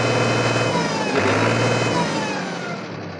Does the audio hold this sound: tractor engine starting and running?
yes